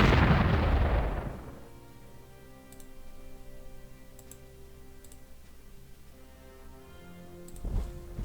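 A heavy artillery and gunfire blast from the war strategy game Panzer Corps Gold hits loud at the start, then fades into a low steady background hum with faint ticks and a softer thump near the end.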